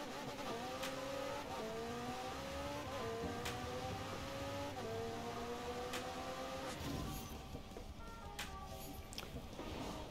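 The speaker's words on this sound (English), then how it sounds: "we're going to do a drag run as well to see what kind of time it can get" McLaren Speedtail in Forza Horizon 4 accelerating through a drag run, the engine note climbing repeatedly through gear shifts in a steady rising pattern, loud and continuous, then easing off near the end.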